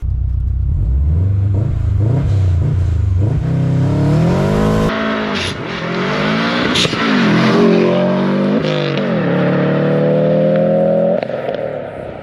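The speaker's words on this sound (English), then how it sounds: "let's quickly jump in the Subaru with Bob and let's go take it for a quick test drive" A Subaru car accelerates hard on a test drive, the engine revving up through several rising sweeps and gear changes, loud and heard from inside the car.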